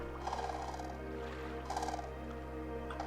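Large wading birds in the video game AER: Memories of Old call in two loud, rattling gobble-like bursts over a steady low hum of game ambience.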